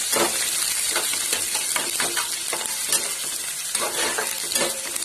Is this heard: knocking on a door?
no